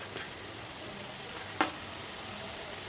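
Rava snacks frying in hot oil, a soft, continuous sizzle with one brief crackle partway through, close but quiet, with no voices.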